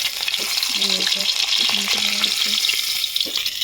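Fish fries in oil in a kadai over a village cooking fire, making a loud, steady sizzle with crackle. A faint tonal hum briefly shows beneath it partway through, and the sound lasts under four seconds.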